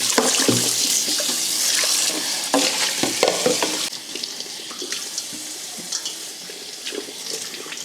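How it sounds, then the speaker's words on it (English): Tap water runs into a kitchen sink while a bowl is rinsed out, a steady splashing hiss with clinks and scrapes of the bowl, loudest at first and then slightly softer, with no talking. "I am gonna wash this bowl out before I stick my potatoes in it."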